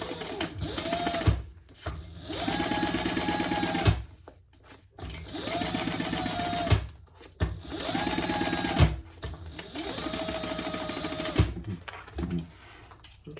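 A sewing machine bastes across the bottom of a shoulder bag in three long bursts of rapid, even stitching, each separated by short pauses, close and clear with no talking.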